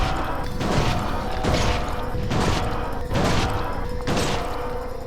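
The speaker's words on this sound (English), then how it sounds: "It takes 7 rifle rounds to defeat the Titan" Rifle shots fired at the Titan in Resident Evil Outbreak File 2, five loud booming blasts at a steady pace about one second apart, each trailing off with a mechanical rattle.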